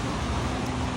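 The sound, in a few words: endless traffic hum outside cafe windows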